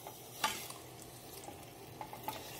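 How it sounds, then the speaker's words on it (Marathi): Jaggery being stirred in a pan for amla murabba, soft scraping strokes with a faint sizzle, one sharper clack early on and a few light knocks later, no talking. "आपल्याला मस्तपैकी हलवून घ्यायचंय गुळ"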